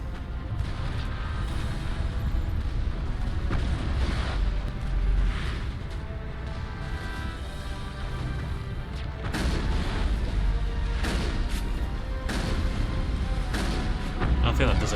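Turrets fire in the Mass Effect video game, with heavy booming shots that pile up into a dense, continuous barrage for the whole stretch, alongside constant battle noise.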